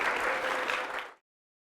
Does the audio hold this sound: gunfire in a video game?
no